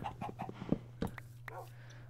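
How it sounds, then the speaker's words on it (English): Baby chicken in the video game Minecraft, soft short clucks and chirps repeating in a quick irregular series, fairly close, over a steady low game hum. "There got a baby chicken as well."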